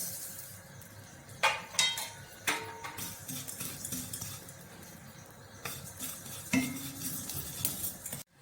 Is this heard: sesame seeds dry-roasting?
yes